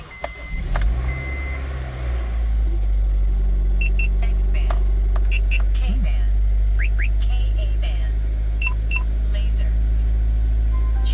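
A misfiring Honda CR-V engine is cranked and restarts, settling into a steady low idle rumble with faint clicks and beeps from the cabin, alongside people talking.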